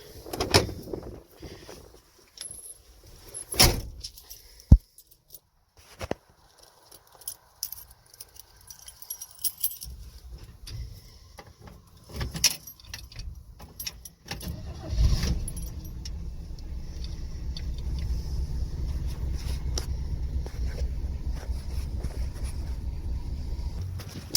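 A 1966 GMC straight-six engine is hot-started after some nearby clicks, rattles and handling noises. The engine then catches and settles into a steady, close rumbling idle for the last ten seconds, with no talk.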